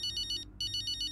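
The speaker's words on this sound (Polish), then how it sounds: "Mama dzwoni." A phone in the video game F1 23 rings with a call from mom, giving a bright electronic warbling ringtone in two bursts separated by a short gap, clear and alone.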